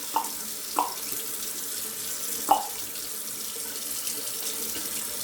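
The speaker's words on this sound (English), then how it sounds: "Ooh, nice cold rinse." A tap runs for a cold rinse after a shave, giving a steady, soft hiss of flowing water. A few small splashes and clinks stand out over it, and no one speaks.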